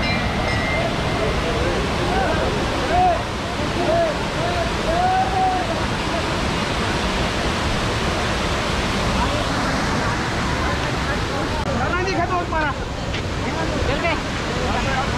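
Steady roaring rush of falling water at Jatmai waterfall near a temple in Gariyaband, Chhattisgarh, loud and continuous, with faint voices and occasional bird-like calls in the background.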